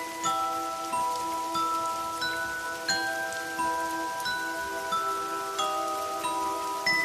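Rain falls steadily through the night while a sustained tonal drone plays over it, an eerie backdrop for a Bengali horror story; no voices are heard.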